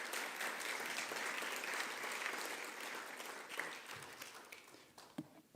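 Audience applause for Dr. Iris Brom at a health-systems talk, a steady dense clapping from a room of people that holds through most of the clip and tapers off near the end.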